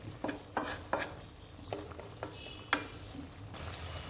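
A spoon stirs bilimbi pickle in a pan on the stove, several distinct scraping strokes with a soft sizzle underneath, close and clear with no voices.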